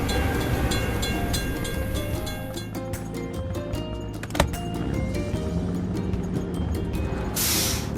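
A video game train rumbles past a railroad crossing with rhythmic clacking of wheels over the rails, steady and close, ending in a hiss of rushing air.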